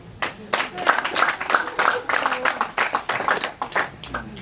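Wedding guests clap together in a burst of dense, overlapping applause that runs steadily throughout, fairly close, with voices mixed in beneath the clapping.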